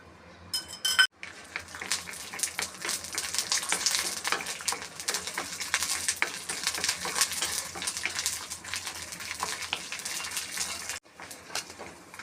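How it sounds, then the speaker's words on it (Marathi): Peanuts roast and get stirred in a little oil in a kadhai, a continuous close sizzle broken by the scrape and clink of a spatula against the metal pan, with no talking. "मी कढईमध्ये थोडंसं तेल टाकून शेंगदाणे भाजून घेणार आहे"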